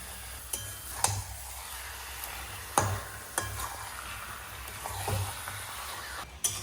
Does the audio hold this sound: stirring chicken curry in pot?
yes